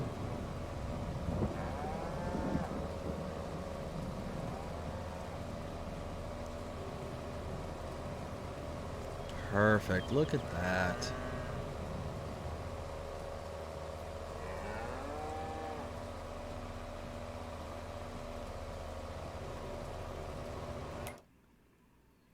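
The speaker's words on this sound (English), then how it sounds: "All the cows came running." Hungry cattle in the Farming Simulator 22 Hills of Tuscany farm low and moo repeatedly over a steady mechanical hum, with a louder cluster of bellows midway and someone speaking briefly before the sound cuts off.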